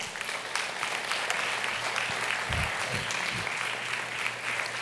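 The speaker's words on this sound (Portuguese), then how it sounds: "Você pode aplaudir ao Senhor?" A church congregation applauds the Lord in one steady, dense wash of clapping, with a few low thumps partway through, filling the room continuously without a break.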